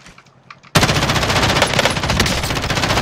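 Sustained automatic fire from an M13 rifle in an Apex Legends match erupts suddenly after a brief quiet moment, loud, close and rapid, continuing without pause.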